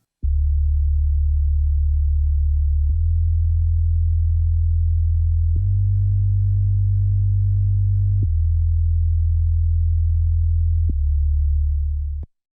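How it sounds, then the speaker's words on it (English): A plain synth bass without effects, programmed in Cubasis 3, plays a slow line of long sustained notes, five smooth, pure low tones changing pitch every few seconds, clean and steady before stopping abruptly. "So a pretty simple and basic synth bass there."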